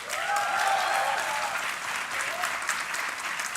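Audience at a 2022 IISER Pune convocation ceremony applauding an award winner, steady, full applause from many hands, slightly distant, with a faint voice or tone drifting through early on.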